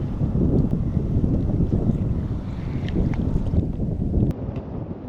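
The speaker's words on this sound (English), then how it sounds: "Boy, that wind's howling." Strong wind roars and buffets the microphone nonstop on a bayou, a heavy low rumble with faint splashing of water underneath.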